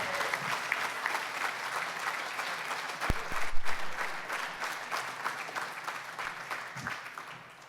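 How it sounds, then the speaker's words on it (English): Applause for graduates at a job training graduation ceremony, a steady, fairly distant crowd of clapping with a few thumps and slight swells, gradually thinning toward the end. "let's give our graduates another round of applause"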